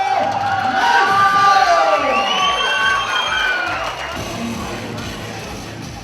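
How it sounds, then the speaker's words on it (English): Crowd at a local fight night cheers, whoops and shouts loudly for a fighter just announced into the ring, a dense roar that stays strong and slowly eases over several seconds. "Ladies and gentlemen, please make some noise for Daniel Mason!"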